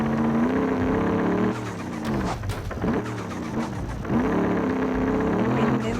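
An off-road car strains its engine while climbing rough terrain. The steady, loud engine drone dips briefly in the middle, with some knocking, and then returns to its full climbing pull.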